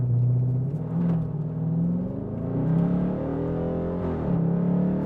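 Dodge Charger Hellcat engine launching from a standstill in launch mode, a loud continuous rumbling roar that rises and falls in pitch as it accelerates, heard close and without any talk.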